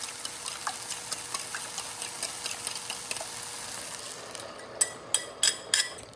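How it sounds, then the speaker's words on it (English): Eggs cooking in a pan give a soft, steady sizzle with light ticking, then several sharper scraping knocks near the end as a utensil stirs them. "All right, so we're going to give that a little stir"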